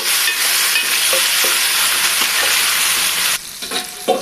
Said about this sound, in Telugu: ముందుగా కట్ చేసుకున్న రెండు టమాటాలు వేసుకోవాలి టమాటాలను కూడా బాగా మగ్గనివ్వండి